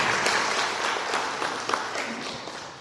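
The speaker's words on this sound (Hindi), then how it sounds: "एक बार तालियों के साथ स्वागत करें समीर जी का" Audience applause welcoming Sameer onto the stage at a Hyundai Venue car launch event, a steady dense clapping that holds for about three seconds and eases slightly toward the end.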